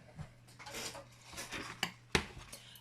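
Blade cuts through the folded corners of a cardboard box, giving a few quiet scrapes and two sharp snips near the end, close and soft.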